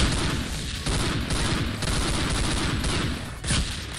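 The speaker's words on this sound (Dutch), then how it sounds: "dat geluid van deze gun" Rapid gunfire in the video game Counter-Strike Condition Zero, loud bursts of repeated shots firing almost nonstop, with a few brief pauses and a heavier blast near the end.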